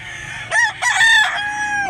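A rooster crows once, close and loud, a rising then sustained cock-a-doodle-doo call ringing out alone.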